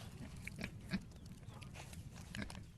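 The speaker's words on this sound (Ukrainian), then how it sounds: "Риє землю, їсть, рохкає." A domestic pig grunts in soft, repeated low snorts, quiet and steady, with faint rustling behind it.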